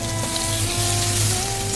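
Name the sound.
mango and potato mixture sizzling in frying pan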